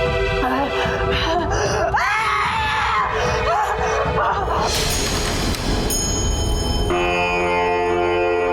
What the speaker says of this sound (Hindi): मैंने अजीब सी चीख सुनी